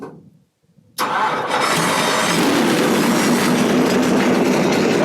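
A 2009 Dodge NASCAR race car engine fires up after a brief quiet moment, catching abruptly and settling into a loud, steady, rumbling idle close by.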